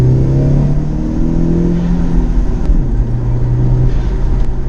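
A B6 Audi A4 with a Stage 1 tuned 1.8T engine accelerates, a loud, steady engine drone with rising harmonics that climb as it pulls, heard alone from close up.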